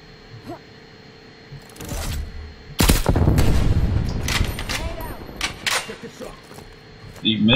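Bursts of gunfire in Call of Duty Black Ops Cold War, a couple of early shots then a loud rapid volley with sharp repeated cracks and echoing booms, fading and flaring again, with a voice briefly heard.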